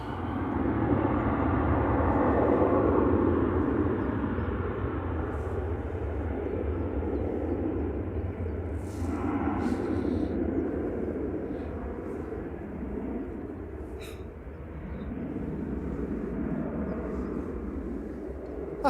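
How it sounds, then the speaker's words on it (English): A Ryanair Boeing 737-800 departs from Manchester Airport, its jet engines producing a broad, sustained roar heard from a distance that swells early and then slowly fades, with faint faraway noises scattered over it. "Ryanair departing now."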